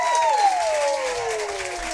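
An audience applauds at a live country music show at the Floyd Country Store, a steady wash of clapping heard up close with a sliding tone over it.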